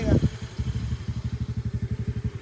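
A motor scooter putters into motion with a quick, even, throbbing beat, close and moderately loud, after a brief voice at the start.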